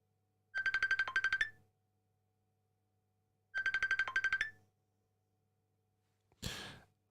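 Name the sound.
phone ringing with an incoming call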